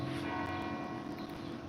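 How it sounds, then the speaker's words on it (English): Church bells ring steadily at a distance under a constant wash of room and background noise, heard during a home live stream around ten o'clock. "Oh, the church bells are going off."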